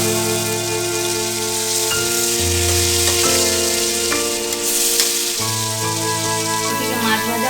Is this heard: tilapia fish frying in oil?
yes